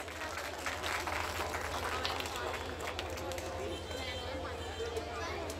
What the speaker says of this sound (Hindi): और एक बार जोरदार तालियां आप सभी की ओर से